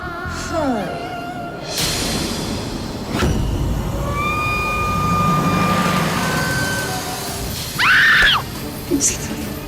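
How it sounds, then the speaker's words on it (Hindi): A woman lets out a loud, high scream near the end of a tense Hindi TV drama scene, preceded by a shorter cry and set against dramatic background sound effects. "चिल्लाओ मत"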